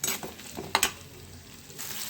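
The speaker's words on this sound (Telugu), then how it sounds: "సో దీన్ని మనం బాగా ఫ్రై చేసుకోవాలి." Sambar onions and other ingredients fry in a pan for tamarind rasam. The sizzle is close and steady, broken by a couple of quick stirring clinks, and nobody talks.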